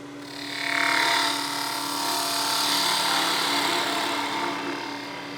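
A woodturning gouge cuts a spinning wooden blank on a lathe for a Christmas gnome, giving a steady, close whirring hiss with a hum underneath that swells early and holds evenly.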